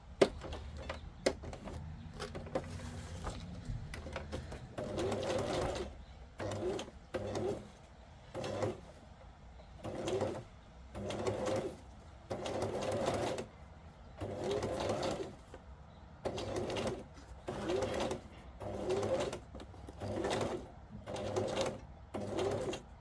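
A sewing machine stitching through textured scrap fabric, repeated bursts of rapid mechanical whirring with short pauses between them, close and steady, no talk.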